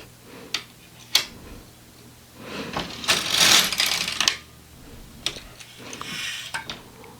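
Knitting machine carriage running across a row, a long rattling sweep near the middle with sharper clicks and clacks before and after, close and fairly loud.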